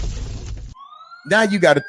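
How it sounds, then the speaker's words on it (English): A short siren wail rises slightly in pitch as a sound effect marking time running out, set between bursts of speech and noise. "But no, you getting sirens."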